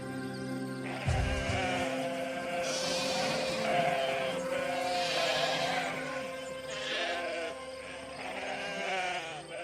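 Sheep bleat repeatedly in a farm barn in an animated film, several wavering calls overlapping one another, fairly loud and close, over a background music score.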